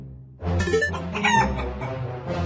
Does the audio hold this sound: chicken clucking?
yes